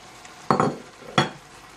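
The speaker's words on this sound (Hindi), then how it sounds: "और गोश्त को अच्छी तरह से भून लें।" Mutton stirring in a pot while it fries, with two brief bursts of scraping and sizzling about a second apart over a quiet background.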